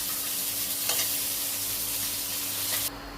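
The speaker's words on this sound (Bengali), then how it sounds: "মাছ কিন্তু বেশি ভাজার দরকার হয় না" Pieces of fish fry lightly in hot oil in a pan, giving a steady, close sizzling hiss. It runs on alone without talk, then cuts off abruptly just before the end.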